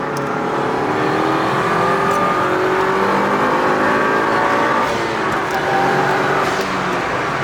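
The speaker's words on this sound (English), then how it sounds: "As you can see, you can hear the blow-off valve" Tuned Mugen Si car engine revving hard, a loud continuous roar with rising and falling tones across the whole stretch and no talking; a turbo blow-off valve release is not clearly distinguishable.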